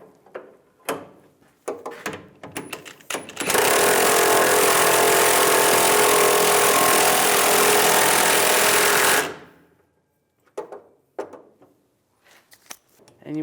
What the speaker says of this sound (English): And now we're going to tighten that down